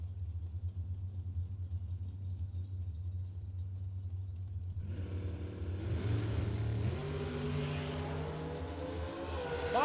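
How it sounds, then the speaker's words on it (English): A Chevrolet S10 drag racer spins its tires at a drag strip, a low idle rumble building into a loud, rising engine roar as the tires break loose and scream, growing louder toward the end. "Bob Galletti just absolutely blew the tires off of the S10"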